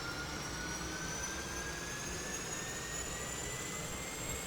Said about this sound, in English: you can see the rotors are starting. There's the engine going.